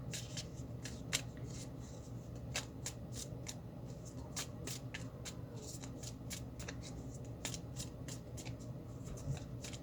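Tarot cards being shuffled by hand, a steady run of soft riffling and crisp card flicks with sharper snaps scattered throughout, close and continuous over a low room hum.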